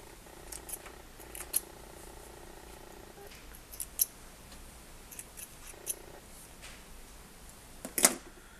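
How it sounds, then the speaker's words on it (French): Scissors snip through sewing threads on a sewn washable wipe, a few short, sharp clicks scattered over quiet room tone, with one louder cluster of snips near the end. "Je coupe les fils."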